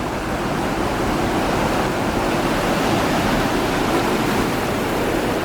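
A creek serving as storm drainage along the old Welland Canal route in St. Catharines, a loud, steady broadband rush of flowing water heard alone and close, with no change throughout.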